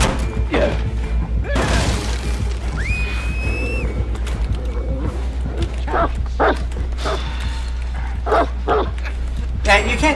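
Dog barks and yips in a Dead by Daylight match, short repeated calls scattered through the clip beneath steady game audio, with a person talking over it.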